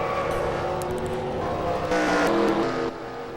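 Race truck in an ARCA Truck Series racing video game at Gateway spinning out after contact, engines roaring with a burst of tire squeal and skidding partway through, loud and continuous.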